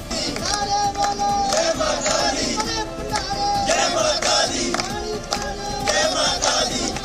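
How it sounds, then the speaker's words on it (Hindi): A crowd of devotees chanting and shouting praises at Vaishno Devi temple on New Year, loud overlapping voices rising and falling in waves throughout. "बीच बीच में श्रद्धालुओं के जयकारे गूंजते रहे और माहौल भक्तिमय बना रहा"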